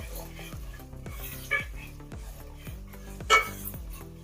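A spoon stirs crab biryani masala with chili powder in a pot, making soft rhythmic scrapes and clinks over a faint sizzle, with two sharper metallic knocks.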